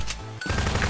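A gunshot in the video game Zombie Grinder cracks out as a short, loud synthetic report, followed by rapid chattering game effects, with no voices.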